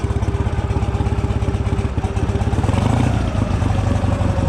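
Motorcycle engine idling while warming up, a steady close chugging putter with a regular pulsing beat and light mechanical clatter, running alone without talk.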